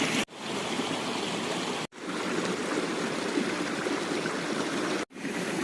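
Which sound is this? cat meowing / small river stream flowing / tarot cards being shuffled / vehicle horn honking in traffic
small river stream flowing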